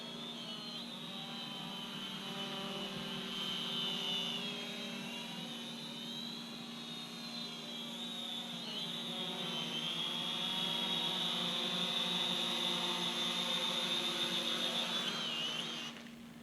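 A Syma X500 camera drone flies nearby, its rotors putting out a steady, loud high-pitched whine that shifts slightly in pitch as it manoeuvres, continuous for the whole stretch with no talking.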